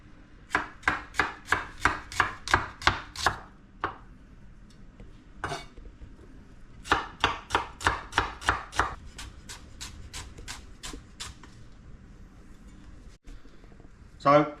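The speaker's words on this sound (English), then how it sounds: "So to prepare the shallots, we need to slice them up." A knife slices shallots on a chopping board for pad krapow, landing in two quick, even runs of about a dozen crisp taps each, with a lone chop between them and a pause before the second run.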